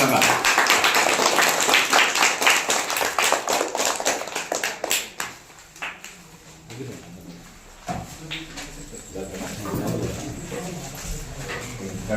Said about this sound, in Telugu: ఒకసారి క్లాప్స్ ఇవ్వండి అందరికీ అందరూ